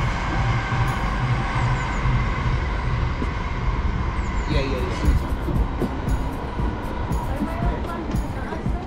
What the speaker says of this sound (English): Mga train.